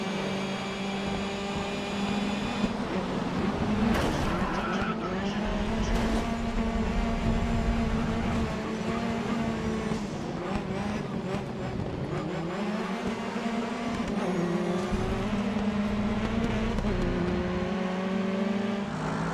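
Racing car engines in the video game Grid Autosport, whining and shifting through gears, with revving surges, pitch drops and occasional tire noise, steady and continuous throughout.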